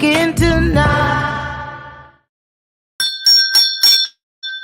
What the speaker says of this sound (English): Almost missed my bell cue.